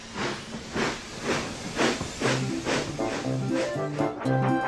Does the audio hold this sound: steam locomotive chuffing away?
yes